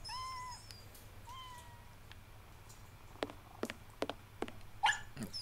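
An injured cat meows in the Sherlock Holmes vs. Jack the Ripper game: a few short, thin cries near the start over a low steady hum, followed later by scattered sharp clicks and knocks.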